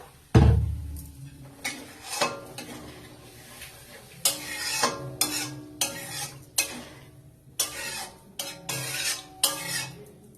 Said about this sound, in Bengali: পরিমাণ মতো অল্প জল দিয়ে দিলাম